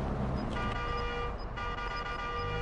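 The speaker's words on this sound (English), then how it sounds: "I love honking" A vehicle horn in the Modern Warfare 2 DMZ video game sounds as a sustained loud honk mixed with engine and traffic noise, with the tone dropping out briefly and returning.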